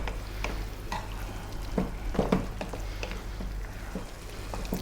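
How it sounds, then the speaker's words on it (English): Spiced pressure-cooked beef frying in a pot for an Arab-style beef and potato stew, with a steady sizzle broken by several scraping stirs of a spoon, close and moderately loud. "give it a stir every now and then"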